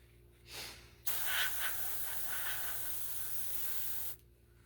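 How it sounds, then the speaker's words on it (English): Spray can hissing onto a latex Leatherface mask, a short puff followed by a longer, steady three-second spray burst, close and alone in a quiet room. "then you go back in there and just spray it again"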